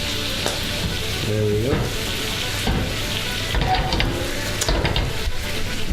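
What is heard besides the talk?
hash brown frying in oil in a pan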